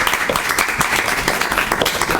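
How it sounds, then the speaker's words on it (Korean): Applause from an audience at a Korean panel forum on the fourth industrial revolution and regulation, as a professor is introduced; steady dense clapping fills the short stretch without a break. "힘찬 박수 부탁드리겠습니다"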